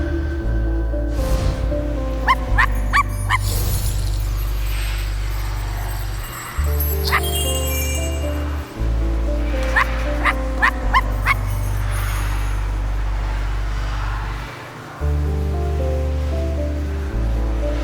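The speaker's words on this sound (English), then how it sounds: "Release the dog." A dog barking repeatedly in the video game I Am Dead, sharp yips and whimpers over a droning, layered musical background, loud and near throughout.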